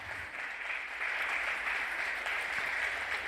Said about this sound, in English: you have to clap louder and longer